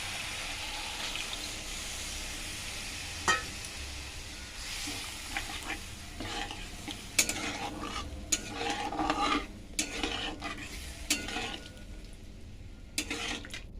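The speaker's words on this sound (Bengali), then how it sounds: "এই গরম জলটা আমি এখন দিয়ে দেবো একটু।" Hot boiled water seasoned with salt and turmeric, left from boiling fish, pours into a hot pan while cooking chilli fish, a soft continuous hiss and bubbling with scattered clinks and stirring knocks, fairly quiet throughout.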